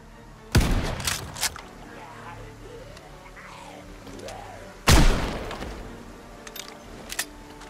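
Two sharp, loud Winchester rifle shots crack a few seconds apart in the video game Project Zomboid, each with a short decaying tail, while someone talks between them.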